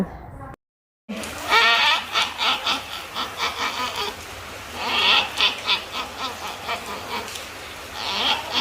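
A voice imitates a chicken's mating call, a series of loud, rhythmic clucking and honking bursts repeated close up after a brief silent gap.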